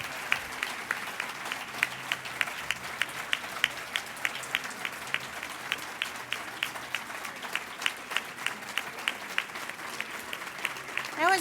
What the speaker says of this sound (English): Let's stand and give her a round of applause.